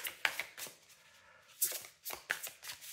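Oracle cards being shuffled by hand in short bursts of papery riffling and flicking, with crisp slaps between quieter pauses; no voice present.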